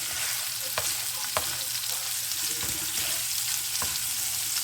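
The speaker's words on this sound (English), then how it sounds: "So I cut up some onions and peppers in there. A little bit of oil in the pan." Onions and peppers fry in a little oil in a pan for a homemade steak and cheese, giving a steady close sizzle with a few clicks of stirring scattered through.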